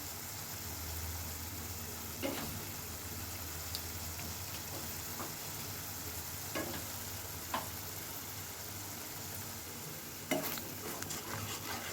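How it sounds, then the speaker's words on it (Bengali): Spice masala frying and being stirred in a pan, a steady sizzle running throughout with a few sharp scrapes and clicks of the spoon against the pan, close and fairly quiet, no voices. "মশলাটা অনেকটা কম কষানো হয়ে গেলে"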